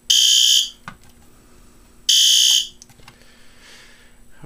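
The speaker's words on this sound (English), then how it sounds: "System alarm in zone 1 alarm LED is on." A fire alarm system bell sounds in zone 1, two loud, harsh ringing bursts of about half a second each, separated by a pause of roughly a second and a half, then quiet room tone.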